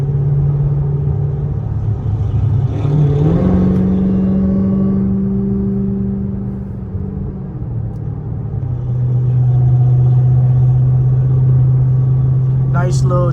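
A Dodge Hellcat drives with its engine rumbling low and steady from inside the cabin, the pitch shifting as it rises and eases off through several changes, ending with a brief higher noise.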